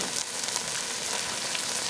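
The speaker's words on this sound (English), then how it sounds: "we're just going to cover it and let it cook until our Brussels sprouts are nice and tender" Curried Brussels sprouts sizzle in a pan, a dense, even crackle of frying that holds steady and close for the whole short stretch, with no voices over it.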